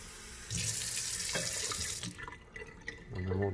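Tap water gushes steadily into the drip tray of a DeLonghi La Specialista coffee machine, with the tray plumbed to drain into a sink. The pour is loud and close, eases off briefly, then surges again.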